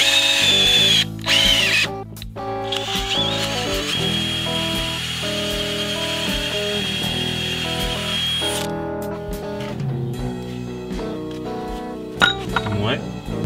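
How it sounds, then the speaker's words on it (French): A power drill with a wood auger bit bores holes into a workbench, its loud whining motor running steadily with brief pauses and clinks of the bit. "Ces mèches plates, ça marche vraiment pas pour percer des trous."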